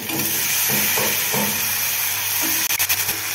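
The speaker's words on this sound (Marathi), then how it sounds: "तेल सुटायला लागल्यावर याच्यामध्ये बटाटे टाकून घ्यायचे।" Potatoes dropped into hot oil with masala, giving a steady loud hiss and sizzle throughout, a few clatters of the pan near the end, with no talking.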